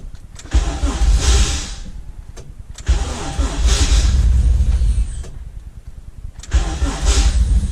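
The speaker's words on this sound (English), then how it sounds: "And my starter's trashed, if you can hear that." A worn starter cranks a cold CT70 motorcycle engine running on E85, grinding in three long, close attempts with brief pauses between them and no catch.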